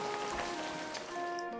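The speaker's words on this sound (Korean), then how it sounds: "후드득 후드득 비가 내리기 시작하고 세상이 물로 가득 찼어요." Rain beginning to fall, a light pattering hiss of drops held at an even, moderate level with no voices.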